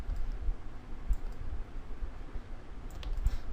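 Computer keyboard and mouse clicks during work in Adobe Illustrator, a sparse series of faint, close taps and clicks spaced irregularly over quiet room tone.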